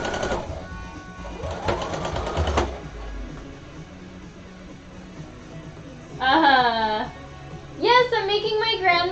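A sewing machine stitching an apron runs in two short mechanical bursts near the start, followed by a quieter stretch and then several close, tonal voices chattering over it.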